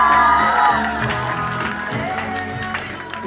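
Audience at an evening event cheering and applauding a team, a lively crowd roar with whoops and clapping under music, steady and fairly loud throughout.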